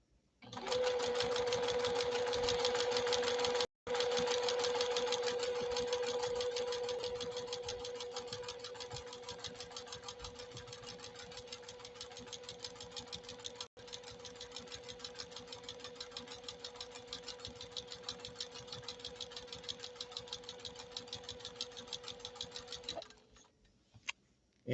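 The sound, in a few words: JUKI TL 2020 PE sewing machine stitching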